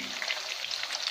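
Chicken fingers fry over low heat in a pan as they are turned, a brief, even crackling sizzle heard up close without speech.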